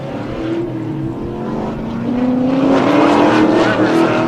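Drift cars race at the LS Fest West drift challenge, their loud engines droning steadily and then rising in pitch and intensity as the revs climb, close and continuous.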